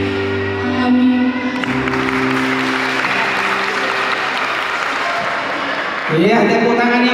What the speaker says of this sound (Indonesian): tepuk tangan yang meriah buat Martua Raja Nadia